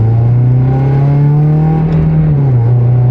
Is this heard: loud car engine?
yes